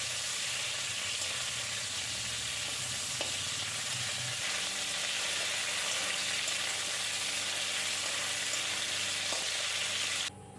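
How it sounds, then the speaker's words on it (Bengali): A hilsa fish head frying in hot oil in a pan, a loud continuous close sizzle with steady crackle throughout, ending abruptly, no talk. "তেলটা গরম হয়ে গেছে, আমি এবার ইলিশ মাছের মাথাটা দিয়ে দিলাম। ভালো করে ভেজে নেব মাছের মাথাটা"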